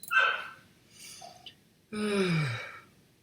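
A dog nearby makes a few short noises: a quick huff, a faint snort, then a longer whine-like yawn that falls in pitch. The sounds come in a quiet room with no talking.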